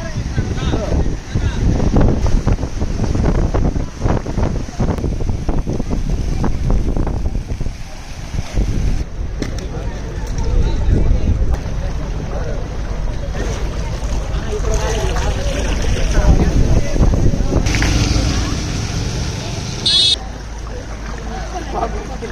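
Heavy surf from high waves driven by Cyclone Michaung batters the coast, a loud, continuous roar with gusting wind buffeting the microphone throughout, no voices.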